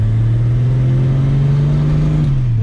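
A Ford Mustang six-cylinder engine pulling in second gear, a loud, steady, close-up drone whose pitch rises gently and then eases off at the end.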